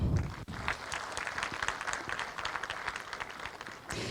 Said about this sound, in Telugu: మీరు డ్రామా స్టార్ట్ కాకముందు కూడా చప్పట్లు కొట్టచ్చు